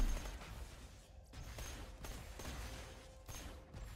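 Gunfire in Borderlands 2, a series of sharp shots spaced roughly half a second to a second apart, moderately loud over a low game background with no talking.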